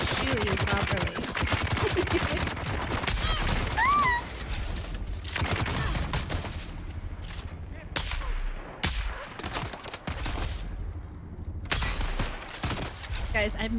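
Bursts of gunfire in a video game, dense and continuous for the first half and then thinning to scattered shots, mixed with game effects and busy background noise.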